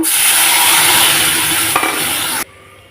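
Jute leaf broth poured into a hot, reddened tempering in a pan: a loud, close hissing sizzle that suddenly drops away near the end, leaving near quiet.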